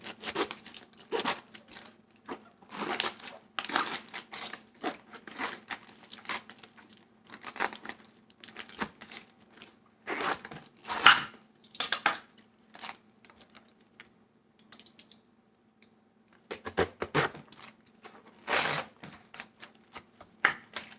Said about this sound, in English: All I'm going to do is just cut it into fours.